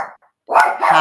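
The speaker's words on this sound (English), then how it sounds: "I try to keep the dogs from barking too much." A dog gives two sharp, loud barks close by, with a brief gap between them.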